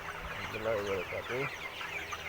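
Chickens on a poultry farm cluck in a few short, close bursts over a steady background hum, with a voice talking faintly alongside.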